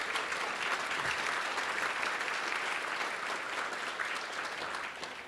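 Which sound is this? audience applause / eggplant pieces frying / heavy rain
audience applause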